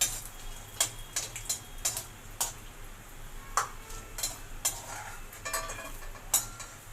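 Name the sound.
roasting cashew nuts in hot ghee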